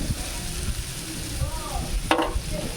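A pan of dried fish curry with okra, jackfruit seeds and potato sizzles steadily while being reheated, with a soft clatter of stirring and a sharp scrape partway through.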